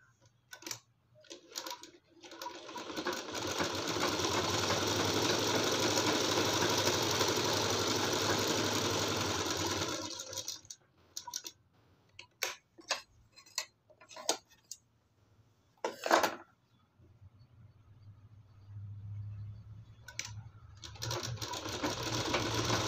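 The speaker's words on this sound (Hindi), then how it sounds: "फिर इधर सिलाई लगाएंगे" An electric sewing machine stitches a blouse neckline in a long continuous whirring run, then stops and starts in short bursts and taps, fairly close with no talking.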